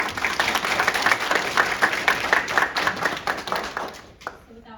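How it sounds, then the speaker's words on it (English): A panel discussion audience at a university law program gives a round of applause, clustered rhythmic hand claps from a modest crowd that fade out toward the end. "I think that that deserves a round of applause"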